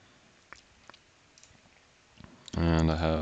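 A few soft, sparse mouse clicks on a software category button, followed by a voice that starts talking near the end.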